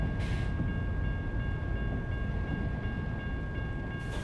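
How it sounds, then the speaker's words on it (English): An Amtrak passenger train rolls past in the video game American Truck Simulator, a loud, steady rumble of rail cars with a sustained tonal hum, close by and without any talk. "There's an Amtrak train."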